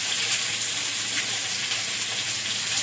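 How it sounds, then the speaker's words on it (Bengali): Panch phoron spices frying in hot oil in a home kitchen, a steady close crackling sizzle with dense hiss that holds evenly throughout, no voices. "তেলে পাঁচফোড়ন"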